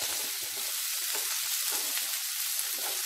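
Onion and capsicum, cut into large pieces, sizzle steadily in a hot pan of oil for a veg soya chilly, with a continuous bright frying hiss and a few soft stirring knocks, close and alone with no talk.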